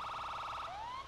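Police siren in Grand Theft Auto V rising and falling in a steady electronic wail, a loud close warble that sweeps into a rising tone near the end, with no talk over it.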